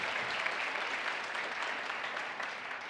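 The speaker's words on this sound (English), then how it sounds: "How about a big round of applause for ThinkAgile," Keynote audience at Lenovo Transform 2017 breaks into sustained applause, a dense, even wash of clapping from a large crowd that holds steady for a few seconds with no speech over it.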